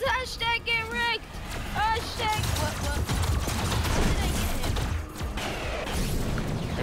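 Rapid gunfire in the Robocraft vehicle combat video game clatters loudly and continuously beneath excited talk, with a steady rattling barrage running through the whole stretch.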